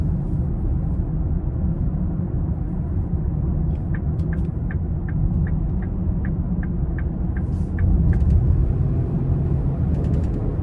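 A 2026 Lincoln Aviator Premiere II with a 3.0-liter twin-turbo V6 and AWD accelerates in normal mode, heard from inside as a steady low engine and road rumble with faint rhythmic ticking clicks, no speech.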